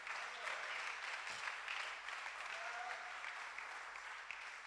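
A church congregation at a revival worship service applauds to acclaim the Lord, producing a dense, steady wash of clapping that holds for several seconds without a break.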